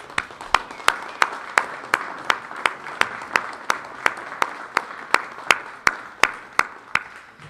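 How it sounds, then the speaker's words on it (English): An audience applauds speaker Ted Gunderson at the Granada Forum, with a steady run of sharp, evenly spaced claps standing out over a softer wash of clapping for the full stretch. "let's thank Ted Gunderson one more time with a round of applause"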